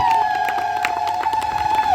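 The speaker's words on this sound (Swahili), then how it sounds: "Hebu mpigie Bwana Yesu makofi na vigelegele." A church congregation claps and ululates in praise, a high sustained trilling cry riding over dense crowd cheering and scattered hand claps, loud and close throughout.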